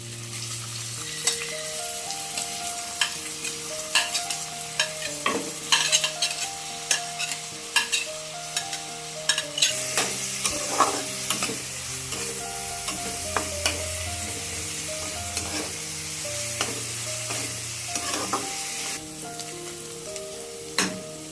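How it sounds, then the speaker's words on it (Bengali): Onion frying with ginger and garlic in a pan for an egg tadka makes a steady, close sizzle, punctuated by repeated clanks and scrapes of a spatula stirring throughout. "পেঁয়াজটাও ভাজা হয়ে গেছে, পেঁয়াজ আদা রসুন"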